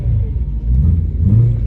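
BMW E92 M3 engine running with a steady, deep low rumble and a slight swell in revs toward the end, close and loud with no talking.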